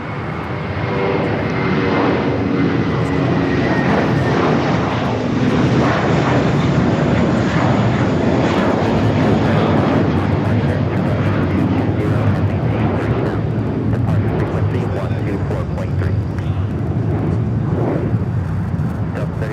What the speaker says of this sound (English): Taking off, that was Spirits, flight 613 heading to Columbus, Ohio, and then A321.